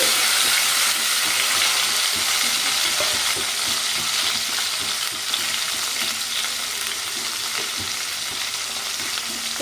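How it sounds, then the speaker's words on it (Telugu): Dried red chillies and chopped tomato fry in a pan for village-style moong dal rasam, a loud continuous sizzle with stirring scrapes throughout, no voices. "ఎండుమిర్చి మనం ముందుగా కట్ చేసి పెట్టుకున్న టమాటా పచ్చి ఇది"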